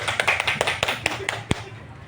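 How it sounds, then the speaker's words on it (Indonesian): An audience of teachers clapping together at the close of a school event, a brief scattered round of handclaps, fairly close and uneven. "Mari kita berikan tepuk tangan bersama."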